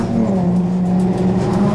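Fiat Punto Abarth race cars circle a track in a 2003 one-make cup, one passing a car with a failed third gear; steady loud engine drone holds throughout with a low throbbing hum, no voices.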